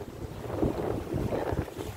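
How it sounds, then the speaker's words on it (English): Wind gusting by the lakeshore at Versoix, a steady low rumble with buffeting swells across the whole stretch and no voices. "See with this wind. Yeah, it's so windy."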